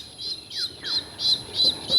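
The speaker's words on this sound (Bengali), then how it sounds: "মুরগি শব্দ করে" A chicken squawks in a Bangladeshi village, a rapid run of about six sharp, loud, close clucking calls in steady rhythm, with no voices.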